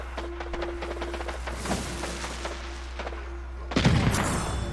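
A firecracker thrown in Ghost of Tsushima crackles in a rapid series of small pops, then a louder burst near the end, heard close over a low steady background hum.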